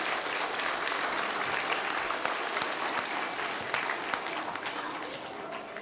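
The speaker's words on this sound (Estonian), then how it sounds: "Teeme ka ühe suure aplausi ULA hoolekogule" Sustained applause from a live audience at a school playback singing show, steady clapping filling the hall throughout with a few sharper claps standing out.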